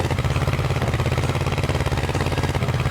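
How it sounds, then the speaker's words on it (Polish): A tractor engine runs steadily up close during a drive while the neighbour's Fendt is being delivered, a deep continuous low-pitched rumble with an even pulsing throb and no speech over it. "mam nadzieję, że dobrze słyszycie ciągnik"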